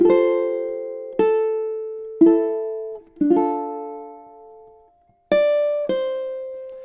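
Ukulele playing measures 3 and 4 of a song: a steady series of single strummed chords, each ringing and decaying before the next, with a brief silence before two final bright strums.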